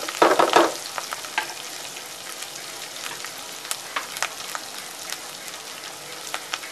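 Finely chopped hot green chillies with ginger frying in a pan for egg fried rice, a soft steady sizzle with a burst of stirring at the start and scattered ladle clicks after.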